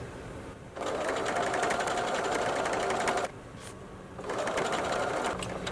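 A sewing machine runs in two close, steady bursts while stitching around a fabric tote bag, its even whirring stitch broken by a short pause between runs.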